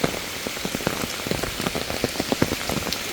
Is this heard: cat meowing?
no